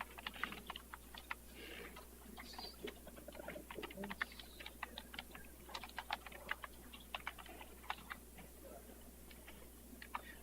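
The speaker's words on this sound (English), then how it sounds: "So right now I'm going to type the complete scientific name in this field." Steady typing on a computer keyboard while a scientific plant name is entered into a data field, many small close clicks in an uneven stream over a faint constant hum.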